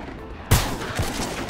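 A sniper rifle with a scope fires in The Mean Greens - Plastic Warfare, a toy-soldier game: one sharp, loud crack, then a few softer shots trailing after.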